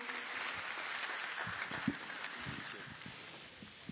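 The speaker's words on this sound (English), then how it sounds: "A round of applause, ladies and gentlemen, as he steps down." Audience clapping at a Yutong bus launch event, fairly quiet and scattered, with a few sharper individual claps standing out from a soft continuous patter.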